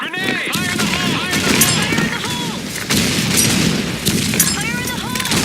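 In a multiplayer shooter game on the Sand Storm 2 map, grenade explosions and rapid gunfire crack and boom repeatedly in dense, loud bursts, with voices in the mix.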